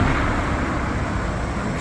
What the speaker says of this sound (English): You can see the traffic actually whizzing by.